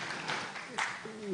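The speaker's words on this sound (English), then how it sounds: "Please clap for her." Audience applause at a digital parenting workshop in Benin: steady, dense clapping from a crowd fills the moment, with a voice briefly rising over it near the end.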